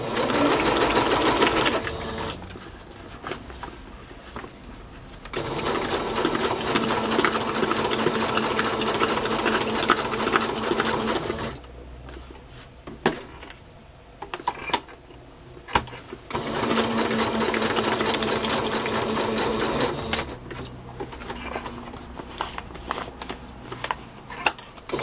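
A sewing machine runs a zigzag stitch on fabric in three long, steady, whirring bursts separated by quiet pauses with small handling clicks, close and loud.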